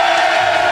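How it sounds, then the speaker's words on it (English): A loud, sustained crowd cheer at an England rugby show, a packed audience whooping and shouting together in a steady roar with no break. "Let's have another cheer if you're here for England tonight!"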